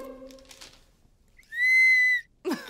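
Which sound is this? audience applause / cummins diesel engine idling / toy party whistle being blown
toy party whistle being blown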